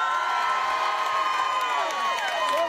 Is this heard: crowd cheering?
yes